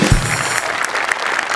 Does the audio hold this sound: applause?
yes